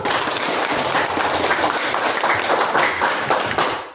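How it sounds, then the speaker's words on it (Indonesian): Hands clapping in a classroom, a busy, uneven patter of many claps close by that tapers off at the end. "Ini tepuk tangan"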